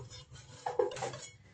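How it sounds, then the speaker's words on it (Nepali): Dishes and cutlery being scrubbed by hand with soap, soft rubbing and scraping with a couple of light clinks of metal, brief and close. "आफूले खाएको भाँडा नास्ता खाएको भाँडा माझ्न गइरहेको छ"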